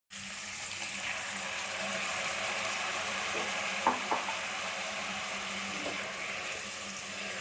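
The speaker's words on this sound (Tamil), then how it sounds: "நல்லா வதக்கிக்கலாம்." Green chillies and tomatoes sautéing for chicken gravy, a faint continuous sizzle with a few soft stirring clinks and scrapes, close and quiet.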